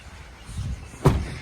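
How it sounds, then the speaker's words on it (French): A Nissan Interstar horse truck's cab door is swung shut, with a soft rustle beforehand and then one sharp, close slam that rings out briefly. "Je vais refermer la porte."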